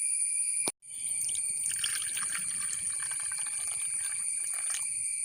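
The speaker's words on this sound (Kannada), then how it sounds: "ನಾವು ಇದಕ್ಕೆ 1 ಲೋಟದಷ್ಟು ನೀರನ್ನು ಹಾಕಿಕೊಳ್ಬೇಕು" Water pours steadily onto a lemon-sized lump of tamarind in a bowl, a bright continuous trickle after a brief pause near the start, close and clear with no voices.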